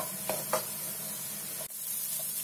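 Chopped onion sautéing in a pan for egg Manchurian gravy, a steady close sizzle with a few stirring scrapes and no speech.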